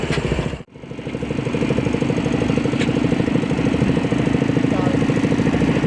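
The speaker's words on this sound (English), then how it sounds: "Slowest tractor race." Several old tractor engines run steadily together at a slow tractor race during a historical society engine show, a loud continuous low chugging drone after a brief dip near the start, with no clear talk.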